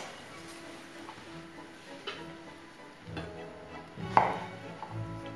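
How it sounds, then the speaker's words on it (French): Garlic cloves being coarsely chopped with a knife on a cutting board for Cantonese braised pork, a few irregular close knife taps with one sharper thud near the end, no talking. "on va passer à l'ail. Donc pareil, on va le dégermer et ensuite on va le couper grossièrement"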